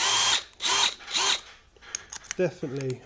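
Three loud bursts of a power drill whirring in short pulses, followed by scattered clicks and a brief voice.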